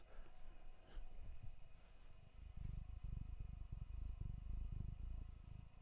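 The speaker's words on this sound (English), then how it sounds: "Oh, yeah, I can hear you purring." A low, rumbling purr pulses steadily in close, soft and continuous, with slight swells in loudness and no talking.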